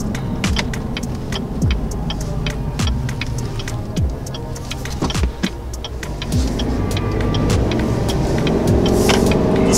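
A 2020 Chevrolet Silverado Trail Boss pickup driving, steady engine and road rumble heard from inside the cab with scattered ticks and clicks, growing slightly louder and fuller toward the end.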